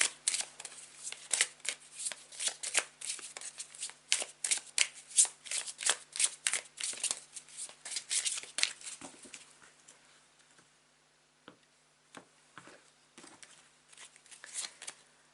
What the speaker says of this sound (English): now's the time to take a couple of deep breaths as I shuffle the card